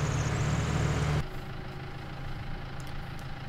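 Tractor engine idling in Farming Simulator 19, a loud low rumbling drone that cuts abruptly to a quieter, softer idle hum after about a second, with no talking.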